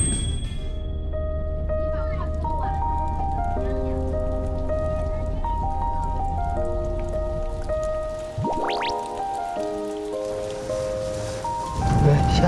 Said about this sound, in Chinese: 好端端的怎么下雨了？